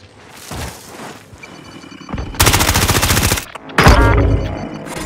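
Loud, close bursts of automatic gunfire from Call of Duty: Modern Warfare Warzone, two long rapid strings separated by a brief pause, preceded by scattered shots and impacts.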